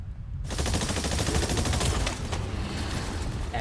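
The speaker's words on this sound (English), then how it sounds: "Pew pews and shooting dinosaurs." Sustained rapid automatic gunfire aimed at dinosaurs in the video game Exoprimal, a loud, dense machine-gun rattle starting abruptly after a brief quiet moment and continuing steadily without talk.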